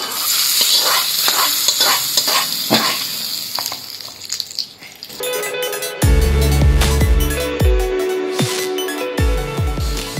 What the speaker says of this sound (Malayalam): ഞങ്ങൾ ഇതിലേക്കൊന്ന് കടുക് കൂടെ വറുത്തിടാൻ പോവാണ്.